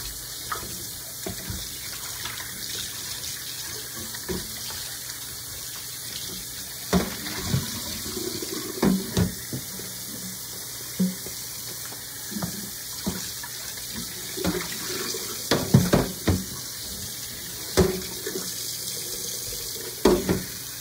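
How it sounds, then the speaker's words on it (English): A kitchen tap runs steadily into a cooking pot as it fills with water, a continuous soft rush with occasional faint clinks and knocks and no talking. "Filling the pot with water."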